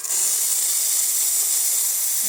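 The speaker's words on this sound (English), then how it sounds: "And then I'll show you the steam." A steady, loud steam hiss from a Rocket Cellini espresso machine's steam wand runs continuously without a break, close up and alone.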